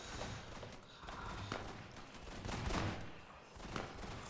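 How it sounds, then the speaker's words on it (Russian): Repeated gunshots crack in quick bursts, a volley of sharp reports at irregular intervals, somewhat distant and muffled under a rough, noisy background. "Снова выстрелы."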